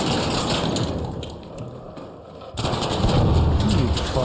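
Heavy bursts of rapid video game gunfire in a wizard-themed shooter, loud and close, with a dense rattling stretch that eases off before a second, harder volley.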